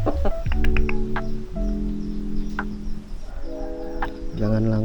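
A chicken close by, a Bangkok-type fowl being treated for a snoring respiratory illness, clucks and makes drawn-out nasal calls in several bursts over a steady low background.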